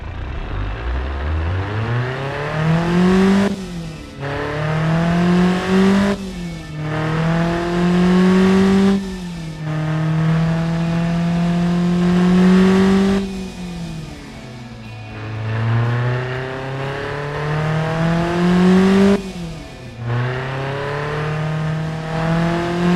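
A tuned car engine, modified for more horsepower than stock, revs loudly in repeated long sweeping pulls that rise in pitch and then drop back, close and alone with no talk.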